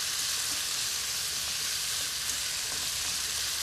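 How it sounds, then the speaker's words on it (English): Broccoli stir-frying with pork and garlic in a skillet gives a steady, close, even sizzle that holds unbroken throughout, with no voices. "we're going to stir fry our broccoli"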